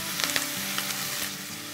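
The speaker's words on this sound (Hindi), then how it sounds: "इसको हम थोड़ा सॉटे कर लेते हैं।" Crushed onions sauté in a pan for fish curry, a soft continuous sizzle with a few light stirring clicks, faint and close, with faint background music.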